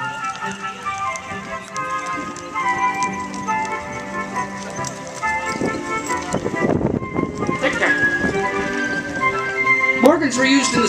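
A pair of Morgan horses pulls a carriage at a demonstration, hooves clip-clopping steadily on the ground under continuous announcer talk and crowd noise throughout.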